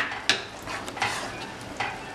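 A spoon scrapes and clinks through a tomato pasta mixture in a pan, several distinct strokes over a soft background sizzle.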